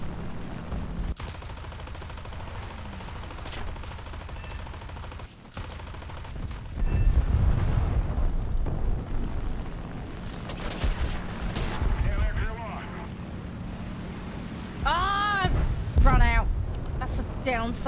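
Aircraft cannons firing in the video game War Thunder, bursts of rapid gunfire and explosions mixed with engine noise and grow louder midway, with someone talking over the action.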